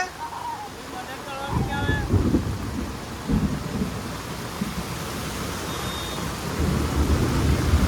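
Heavy rain pours over flooded Pasodara village streets, a dense steady roar broken by deep rolling thunder rumbles that swell several times, close and loud throughout.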